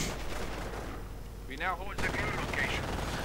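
MG42 machine gun fire in a real-time strategy battle game, rapid bursts of gunfire running under a commentator's voice, with battle noise throughout.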